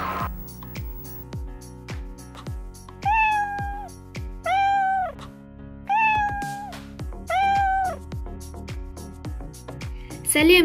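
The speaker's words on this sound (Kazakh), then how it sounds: "бұл мысық" A cartoon cat meows four times, loud and drawn-out, over a steady ticking, train-like rhythmic beat in an animated children's song.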